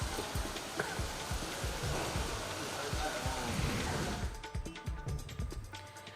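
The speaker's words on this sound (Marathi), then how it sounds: "नवी दिल्लीतही अवकाळी पाऊस कोसळला आहे" Unseasonal evening rain falling in New Delhi, a dense continuous patter of drops on surfaces with some heavier splashes, fairly loud and close, thinning out toward the end.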